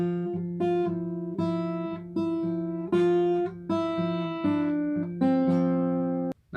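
An acoustic guitar plays the full riff from a song: a steady sequence of about ten plucked notes, each ringing briefly before the next, close and clean with no talk.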